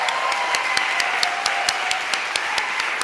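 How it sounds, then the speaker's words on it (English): Rhythmic, evenly spaced clapping with crisp beats about five per second, steady throughout over a faint tonal background hum. "I want to give you guys a round of applause."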